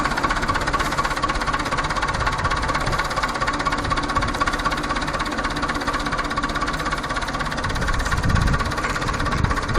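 A Zetor 50 Super tractor with hydraulic steering runs close by, its diesel engine chugging in a steady, loud knocking rhythm with constant vibration and no voices.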